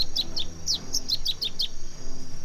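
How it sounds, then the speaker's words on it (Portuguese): A piacoba calls from a marsh in a rich birding area, giving a rapid series of about ten sharp, high chirps, close and clear over soft background noise. "Numa área de banhado, quem aparece é o piacoba."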